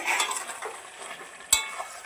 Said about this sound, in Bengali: এখানে তরকারি বসিয়ে দিয়েছি, ঢেঁড়সের ঝাল করছি।